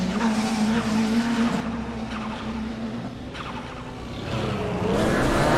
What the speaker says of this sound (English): And they're off and racing for the 10-minute race.